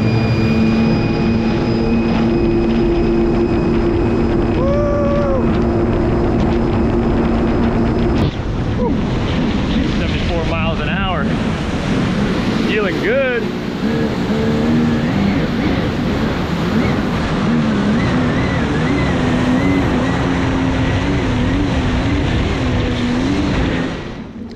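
A Taiga Orca electric personal watercraft ridden hard in sport mode, its whining electric motor tones rising and falling over loud, continuous rushing water spray and wind buffeting.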